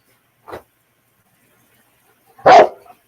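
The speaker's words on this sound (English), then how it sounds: "You don't need to be barking." A dog barks indoors during a thunderstorm, with one short muffled woof followed two seconds later by a louder, sharp bark, close by with quiet in between.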